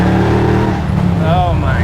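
A supercharged Wegner LSX 427 V8 in a 1967 Camaro restomod pulls hard in second gear on a public road, a loud, close, continuous roar that climbs in pitch, with a voice over it.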